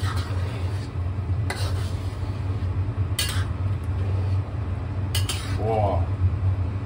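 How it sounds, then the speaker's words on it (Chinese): Cutlery and a pan clatter as fried peanuts, cilantro and scallion get stirred into a Fuqing-style razor clam dish with pork belly, sharp scraping knocks over a constant low kitchen hum. "现在呢，加上这个炸好的花生放进去的，提一个香味，再加入这个香菜和葱"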